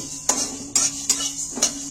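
Cardamom pods, cloves and coriander seeds being stirred in a dry pan, with four sharp scraping clinks of a utensil against the metal over a faint steady background hum.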